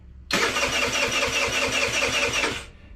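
An old scooter engine running on ethanol-free fuel cranks and sputters to life, loud and close, with a rough, pulsing idle for a couple of seconds before it cuts out.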